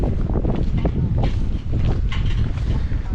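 Steady wind buffeting the microphone on a farm, a loud continuous low rumble with gusty surges throughout.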